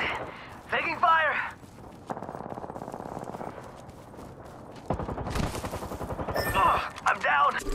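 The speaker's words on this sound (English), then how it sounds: "Taking fire." Apex Legends gunfire rattles out in rapid automatic bursts, several loud sustained volleys with short gaps between them, mixed with sharp game sound effects and brief voice callouts.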